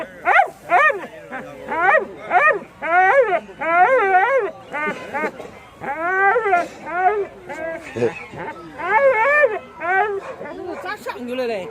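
A husky shut in an iron cage at a dog market whimpers and cries in a long series of rising, wavering howl-like wails, close and loud, with short pauses between them.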